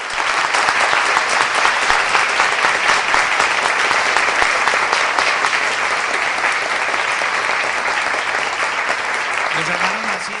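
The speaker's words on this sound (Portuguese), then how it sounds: "Aplausos para os nossos irmãos." Church congregation applauding warmly during a service, dense sustained clapping that fills the room at close range for several seconds, with a brief voice surfacing near the end.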